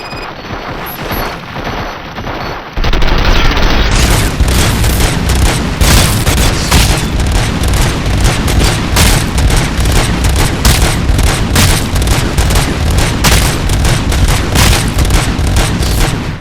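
Dense, sustained gunfire in the video game RoboCop: Rogue City breaks out after a quiet stretch, loud rapid shots and booms continuing without pause for the rest of the clip.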